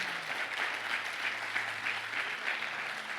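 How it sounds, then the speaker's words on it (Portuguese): A church congregation claps steadily and loudly throughout, with the applause holding at an even level from start to finish. "aplaude Jesus bem forte"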